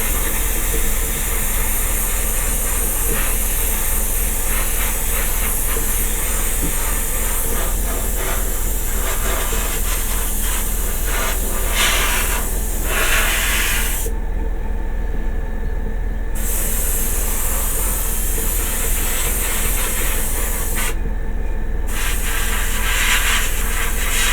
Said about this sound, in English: I am always constantly moving my airbrush